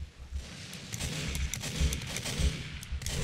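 Pistol fire and other gunshots from a Team Fortress 2 payload match on the Frontier map, with rapid bursts over a busy, cluttered battle din.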